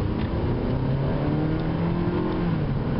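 A 2011 Hyundai Sonata accelerates in first gear, its engine note climbing steadily under a constant road and cabin drone, with no talking.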